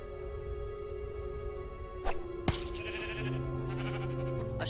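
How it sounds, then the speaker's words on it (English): Sheep bleats in Minecraft: Story Mode sound over a steady game music backdrop, with a couple of sharp clicks and a rising tone partway through. "The sign says sheep, not eggs."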